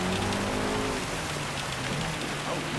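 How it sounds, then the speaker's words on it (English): Torrential rain during a Gran Turismo 7 race, a thick, steady hiss of downpour with a low car engine drone underneath, loud and continuous throughout, no talking. "this is pretty torrential rain"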